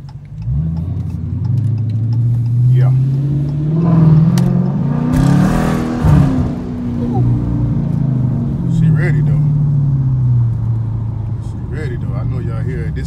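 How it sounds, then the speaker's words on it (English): A Dodge Challenger R/T with a nearly straight-pipe exhaust, mid muffler and resonator deleted, rumbles at idle and then revs in a few rising and falling pulls, loud and close, with someone talking over it. "this is a pretty much straight pipe. It has got the mid muffler and the resonator delete."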